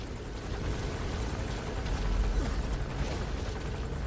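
Helicopter in the video game Metal Gear Solid V: The Phantom Pain, a steady loud rotor and engine roar that swells slightly midway and holds throughout with no talk.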